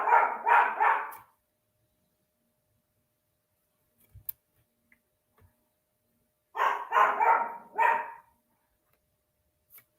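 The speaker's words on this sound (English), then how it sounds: "don't go off and start barking again." A dog barks in two separate bursts of several quick, loud barks, one at the start and another near the end, with near silence and a few faint clicks between them.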